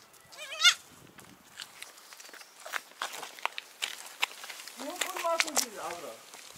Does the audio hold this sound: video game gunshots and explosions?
no